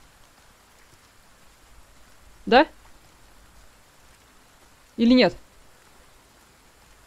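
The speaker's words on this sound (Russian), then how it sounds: "Дождь шумит, я не слышу." Rain patters steadily in Resident Evil 4 Remake, a faint constant hiss underneath two short bursts of a woman's speech.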